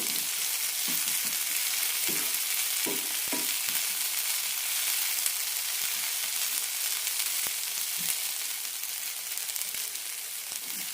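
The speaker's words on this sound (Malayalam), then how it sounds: "ഹൈ ഫ്ലെയിമിലിട്ട് നന്നായിട്ടൊന്ന് വഴറ്റാം" A potato and fenugreek leaf stir fry sizzles in a pan over a high flame, giving a steady frying hiss throughout with occasional soft stirring knocks and scrapes.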